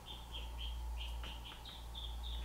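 Small birds chirp outside in a quick, regular series of high, short tweets, faint and distant over a soft low background hum.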